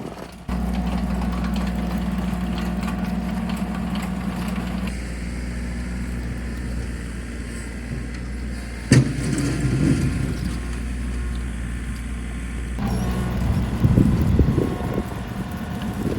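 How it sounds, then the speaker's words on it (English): A tractor's heavy diesel engine runs steadily at a low rumble while grading muddy ground, close by, with a brief clunk midway and shifting mechanical noise near the end. "this is Jordan on the tractor right now"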